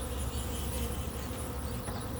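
A beehive of agitated honeybees hums steadily while a honey super and queen excluder are being placed on the hive, a dense continuous buzz close by with no talking.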